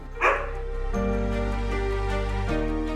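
Mudhol Hound dogs at a family home give a close, loud bark near the start, followed by a sustained, strongly tonal hum or drone that carries through to the end.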